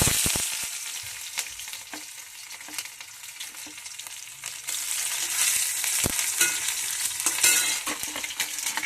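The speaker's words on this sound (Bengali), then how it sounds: "সবই এইভাবে ভেজে নেবো।" Garlic, onion and whole spices fry in hot oil, a steady sizzle broken by scraping stirs and small crackling pops, close and fairly loud throughout, with no talk.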